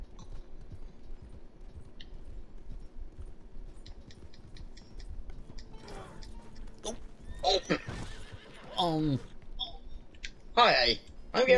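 Horse neighs in Red Dead Redemption 2 during a ride toward Strawberry: a few loud whinnies in the second half follow light hoof clatter and clicks, with talk mixed in.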